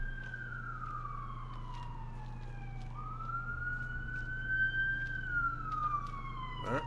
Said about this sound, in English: Some sirens behind.